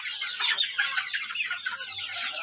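Chickens in a coop holding one rooster and four hens, a busy overlapping chorus of clucks and squawks close by, continuous throughout with no talking.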